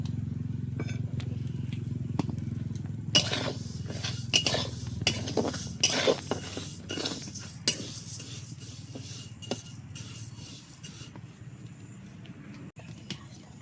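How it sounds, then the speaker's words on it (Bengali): Mung dal frying in a hot wok, stirred with a metal spatula: a run of scraping clinks and rattles against the pan over a steady low burner rumble, busiest midway then thinning out. "এবার আমি মুগের ডালটা একটু ভেজে নেব"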